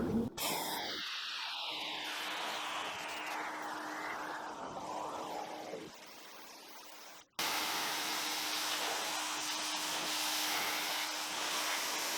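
Aerosol car cleaner hisses steadily as it is sprayed along the side of a dirty car, a continuous close spray that cuts out briefly near the end before resuming.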